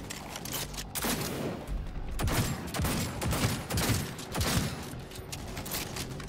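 Heavy weapons in Cyberpunk 2077 fire in loud, rapid bursts of overlapping shots that keep hammering without a break, with no voices over them.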